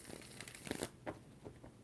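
Tarot cards are shuffled in a quiet room, giving a few soft riffling and flicking bursts, faint and close, with short pauses between them.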